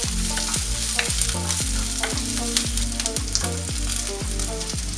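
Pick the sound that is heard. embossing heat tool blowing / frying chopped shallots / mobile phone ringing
frying chopped shallots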